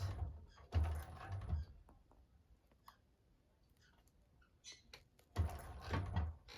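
A 1341 cylinder arm sewing machine stitches a bag in two short bursts of rapid mechanical whirring at the start and end, separated by quiet handling clicks.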